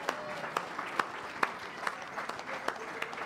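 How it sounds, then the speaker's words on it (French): Audience at a Christmas evening church gathering clapping together, a light, uneven patter of claps with a few sharper hits, moderately faint and steady. "On peut encore une fois les applaudir."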